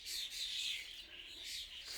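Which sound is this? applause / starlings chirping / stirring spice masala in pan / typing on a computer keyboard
starlings chirping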